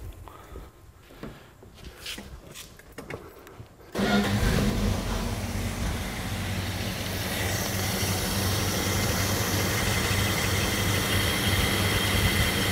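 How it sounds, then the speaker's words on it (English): Car engine with a carburetor cranks and catches after a few quiet seconds of handling, then settles into a steady, fairly loud idle with a hissing rush as it warms up, heard alone. "we're going to start the vehicle up, and we're going to warm it to full engine operating temperature"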